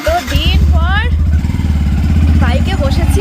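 A motorcycle engine hums steadily throughout on a ride, a close, continuous low drone with someone talking over it nearly the whole time.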